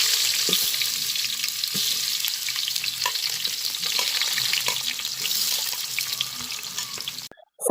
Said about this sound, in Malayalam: സവാള ഒന്ന് വഴണ്ട് വന്നിട്ട് നമുക്ക് അതിലേക്ക് വെളുത്തുള്ളി കൂടെ ഇട്ട് കൊടുക്കാം